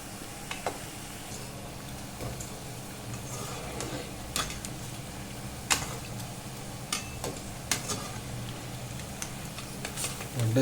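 Medu vada, urad dal fritters, fry in hot oil with a steady, close sizzle and scattered small pops and ticks from the pan, continuing evenly throughout.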